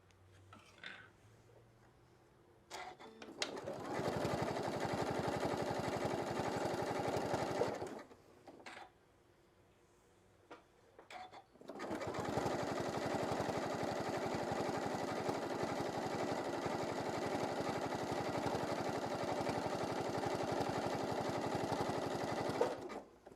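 A sewing machine runs a serpentine stitch along the folded edge of a pocket on a shoulder wrap, in two steady, close bursts of motor whir with a short pause between them and no talk.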